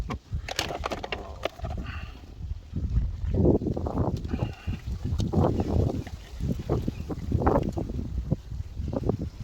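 Steady outdoor wind buffets and rumbles across the microphone in uneven gusts while someone solders an RDB Sulina e-scooter; the blustery noise is loud and continuous throughout.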